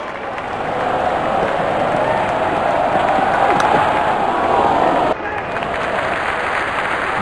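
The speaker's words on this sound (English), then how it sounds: "Crowd going mad here." Stadium crowd in the Real Cricket 2019 video game roaring and cheering after a big hit, a loud sustained swell that rises and then drops off abruptly, with a commentator talking over it.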